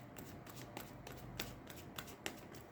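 Tarot cards being shuffled by hand in a series of quiet, riffling bursts, with soft flicks and taps over a faint background hum and no talking.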